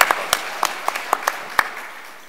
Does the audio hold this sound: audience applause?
yes